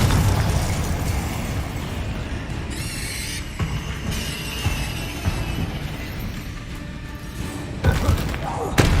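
A Confringo fire spell explosion in Hogwarts Legacy: a dense, rumbling blast with sustained crackling debris over about nine seconds, joined by sharp whooshes and a few heavier thumps, loud and close.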